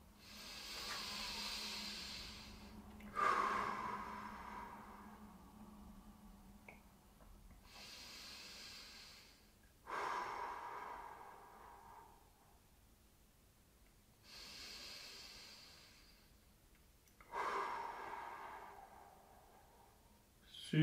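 Slow, deep breaths taken while holding a gentle seated neck stretch, three long airy exhales spaced several seconds apart, close and soft with no talking.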